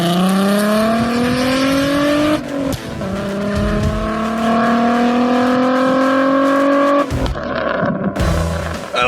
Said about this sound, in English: that VR6 and that Volkswagen just sounds insane. Oh my God, the pops on that.